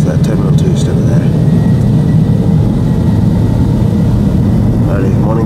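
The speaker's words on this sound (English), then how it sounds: "Silk Air Airbus A320. Take off out of Changi Airport, bound for Phnom Penh." A Silk Air Airbus A320 takes off from Changi Airport, bound for Phnom Penh, with a loud, continuous jet engine roar filling the air while someone talks over it.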